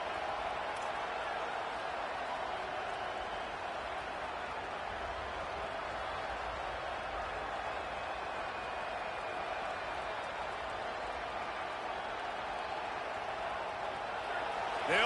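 A stadium crowd in a college football video game, Notre Dame versus Oklahoma, roars in a steady, dense wash of cheering and applause that holds at an even loud level throughout.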